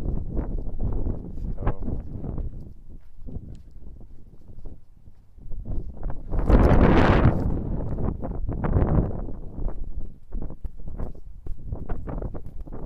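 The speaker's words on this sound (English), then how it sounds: "I've been walking into the breeze for a while." Wind gusting across a microphone on a walk outdoors on a breezy winter day, a steady rumbling buffet that swells loudest midway, then settles back to a continuous rough roar with no talk.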